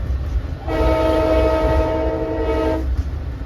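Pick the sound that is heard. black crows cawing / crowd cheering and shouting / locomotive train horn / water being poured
locomotive train horn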